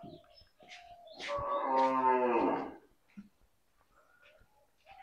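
A dairy cow being held for an injection lets out one long, loud, nearby moo lasting about one and a half seconds. Faint handling noises and brief speech come before and after it.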